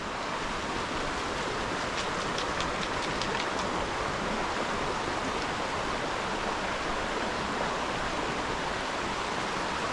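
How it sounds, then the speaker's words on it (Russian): A rushing river beside a forest walking path in autumn, a loud, steady broadband roar of flowing water filling the whole stretch with no voices. "здесь шумит река"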